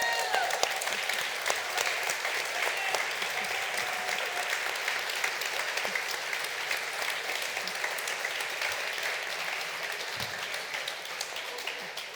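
An audience at a live literary talk applauds, a dense, continuous clapping that stays steady and moderately loud for the whole stretch without easing off.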